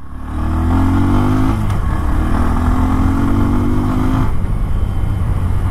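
A Bajaj Pulsar N125 motorcycle with an underbelly exhaust pulls away in first gear. Its engine note rises loud and close, dips briefly, then climbs again as it accelerates.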